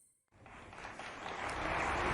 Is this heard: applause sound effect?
yes